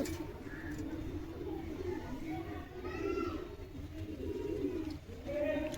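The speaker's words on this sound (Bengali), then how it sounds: "মাদি কবুতর, খুবই বড় মানে কবুতর আছে" A female Giribaz pigeon coos in soft repeated rolling calls at close range, with other bird sounds and some human voice in the background.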